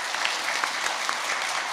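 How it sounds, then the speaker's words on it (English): Applause from a primary school final assembly audience for an award winner, a brief, even burst of many hands clapping at moderate level, steady throughout without talk. "Let's give Samantha another round of applause."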